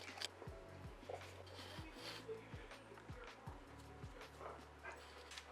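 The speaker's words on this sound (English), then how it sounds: "My dog, Diesel." A German Shepherd gives a few short barks and yips during a mountain camping trip in Georgia, fairly faint against steady low background rumble and noise.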